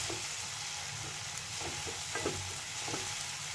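Tomatoes fry in a pan for pav bhaji, giving a steady close sizzle broken by soft, irregular scraping and stirring strokes throughout.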